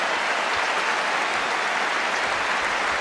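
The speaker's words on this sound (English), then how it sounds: "asking for some applause there, deserving of it too" Tennis crowd at a Roland Garros fourth-round match applauding after a long rally, a dense, even roar of clapping filling the whole stretch, loud and continuous.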